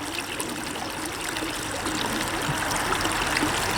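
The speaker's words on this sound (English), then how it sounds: "They're at the bottom of the creek with the water flowing over them." Creek water flows over stones on the creek bed in a steady, close, continuous babble and trickle, with no voices.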